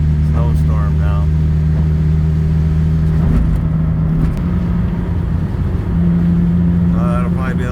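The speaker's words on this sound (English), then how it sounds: "So now we're driving home in a snowstorm now." A vehicle drives home in a snowstorm, its engine a steady, loud low drone throughout, with people talking over it at times.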